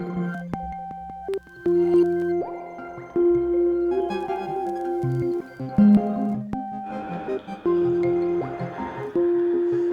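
A modular synthesizer run through a pedalboard with every voice playing together: layered sustained tones and shifting drones overlapping with plucky blips, dense and steady throughout, no speech.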